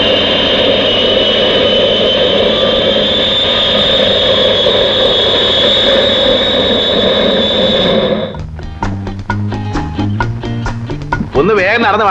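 An arriving airplane roars loudly and steadily for about eight seconds before cutting abruptly to conversation between men.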